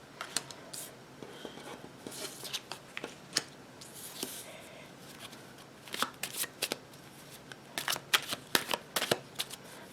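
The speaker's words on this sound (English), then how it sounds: "We're going to do less shuffling than usual," Tarot cards being shuffled by hand, close and crisp, with bursts of riffling and flicking that grow busier and denser toward the end, with no voice over them.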